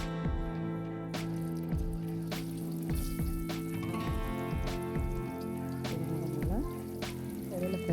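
Spiced raw banana and bitter gourd chips fry in hot oil, giving a steady, dense crackling sizzle with scattered pops and drips that carries through the whole stretch.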